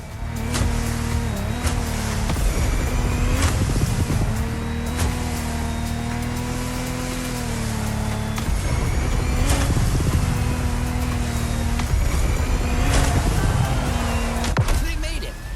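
Boat engines drone and rev loudly through a water race in the video game The Crew Motorfest, with steady pitch shifts and splashy noise, and a voice talks over the action at times.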